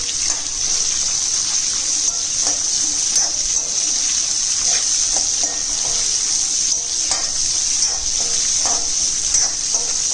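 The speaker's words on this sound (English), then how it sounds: "Let's keep stirring it till the onion gets translucent." Halved shallots and garlic pods frying in a pan over low-medium flame while being stirred, a loud, continuous bright sizzle with faint scraping strokes throughout.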